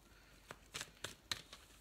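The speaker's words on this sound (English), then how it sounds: "I'm just going to give it one more shuffle" A deck of oracle cards is shuffled quietly, giving five or six soft, quick riffling patters spaced about a quarter second apart, close but faint, with no voices.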